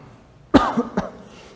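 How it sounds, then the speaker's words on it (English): A single close, loud cough burst followed by a couple of smaller coughs, then quiet. "you see the coughing."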